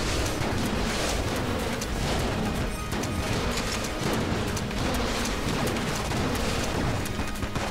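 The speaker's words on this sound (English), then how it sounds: "Them some big explosions" Big explosions in the video game Enter the Gungeon form a dense, continuous roar of blasts and crashing bursts, loud and close, layered with rapid impacts throughout and no talk.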